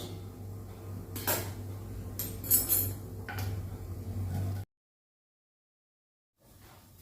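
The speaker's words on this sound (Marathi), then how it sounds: "झाकण ठेवायचं" A lid goes onto a cooking pot in a home kitchen: a few sharp metallic clinks and clatters close by over a low hum, followed by silence.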